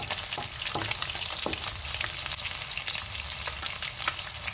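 Pieces of catla fish crisp in hot oil in a pan, making a loud, dense, unbroken sizzle with sharp spitting crackles and no talking.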